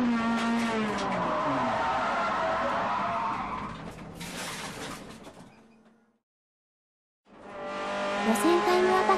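Race car engine roaring at high revs, then a skid with tire squeal as the car spins out on track, falling silent for about a second before the engine noise returns loud and close.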